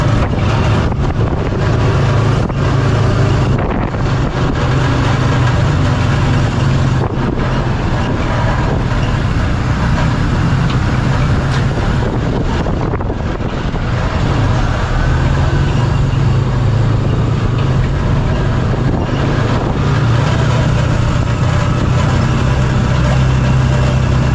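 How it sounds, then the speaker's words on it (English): Old tricycle engine droning loudly and steadily through a ride in Makati, a continuous rough motor rumble with traffic noise and no pauses. "I'm hitting up the old trike to take me back."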